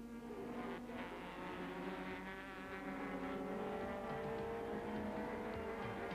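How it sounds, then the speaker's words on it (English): BMW Super Touring race cars run at the Kyalami circuit in South Africa, their engines making a continuous, fairly faint high-pitched whine with rising revs, heard at a distance and steady throughout. "McCleary might have one last shot at forcing his way to the front at the left-hander at Gestetner, but he needs to be closer to the BMW"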